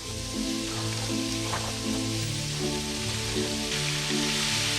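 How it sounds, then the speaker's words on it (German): Vegetables frying in beef roasting fat in a pan while braising beef cheeks, a steady loud sizzle throughout, with tonal music or humming bands layered underneath. "In dieses Bratenfett geben wir gleich unser Gemüse rein. Und die Braterei geht weiter."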